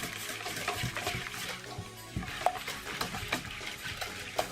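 Mayonnaise from a single bottle is stirred to make a restaurant-portion spicy mayo sauce, giving a thick, wet, squelching churn with irregular soft slaps and scrapes that runs throughout and is heard up close.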